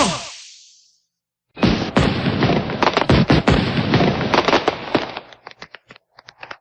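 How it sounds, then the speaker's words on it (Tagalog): A loud burst of fireworks: a brief fizzing launch, a pause, then a dense crackling barrage of pops and bangs that thins into scattered snaps. "Ang negosyo kasi ng tatay ko ay paggawa ng paputok. Etong gawa ko!"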